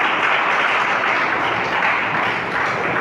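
A church congregation gives steady, full applause after a sermon reading, a dense continuous wash of clapping with no talk over it.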